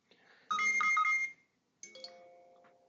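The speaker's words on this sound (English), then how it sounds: "You probably heard it beeping." An iPhone calendar alarm app sounds its alert: a loud burst of repeated bright tonal beeps lasting about a second, a pause, then a second chime that trails off, heard close by.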